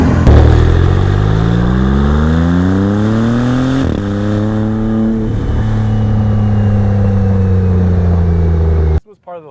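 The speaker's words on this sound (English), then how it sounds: "then the turbos get spooling" A 2022 Maserati MC20 supercar's twin-turbo engine revs hard and climbs through the gears on a highway, with rising harmonic tones and two brief shift dips, loud and close for nearly the whole clip.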